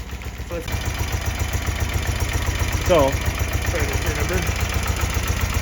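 A BMW motorcycle engine with carburetors idles high and steady, a continuous low rumble close by, with a brief voice or rising tone partway through.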